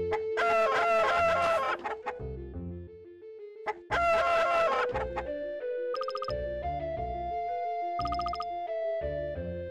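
Chickens cluck and a rooster crows in the surreal horror video game Mogeko Castle, loud bursts of game audio with repeated bird calls over a steady tonal background, no talk.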